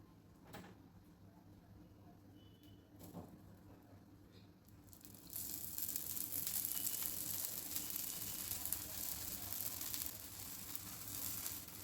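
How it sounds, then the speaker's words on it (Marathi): Oil is added around a sprouted mung bean dosa on a hot griddle. After a few quiet knocks, a bright, close sizzle rises suddenly and keeps crackling steadily. "आपला डोसा आता चारी बाजूने आपण तेल घालूया।"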